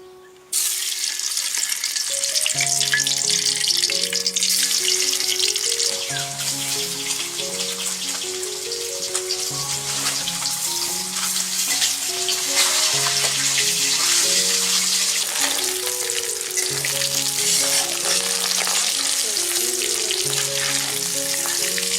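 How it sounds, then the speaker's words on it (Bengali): Duck eggs rubbed with salt and turmeric fry in oil in a wok, a vigorous, continuous spitting sizzle that stays close and loud throughout, with gentle background music beneath. "এবার আমরা ডিমগুলো ভেজে নেব এই জন্য কড়াইতে একটু তেল দিয়ে নিচ্ছি"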